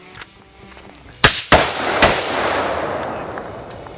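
Handgun shots fired during a threat engagement drill: three sharp, loud reports with a short double-tap pair near the start, each followed by a ringing outdoor decay.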